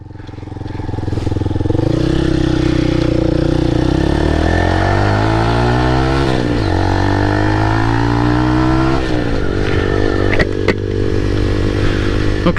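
Motorcycle riding on the road with rider wearing a Biltwell Gringo S helmet, steady loud engine drone rising and falling through gear changes, with continuous road and wind rumble and a few brief clatters.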